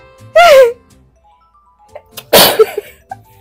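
Two sharp sneezes during a sneeze challenge, close and loud, each a short explosive burst about two seconds apart, with small clicks and breaths around them in an otherwise quiet room.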